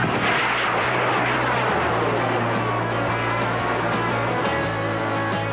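A model rocket engine ignites and launches into clear skies, a loud roaring rush of broadband noise over a steady low hum that holds throughout, with no voices.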